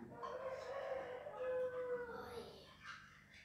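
A rooster crows once in a long, drawn-out call, fairly faint and somewhat distant, followed by a softer trailing sound.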